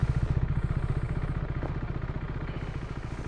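KTM RC 390 motorcycle idling while it warms up, a steady rapid single-cylinder thump with light mechanical clatter, close and continuous with no talking.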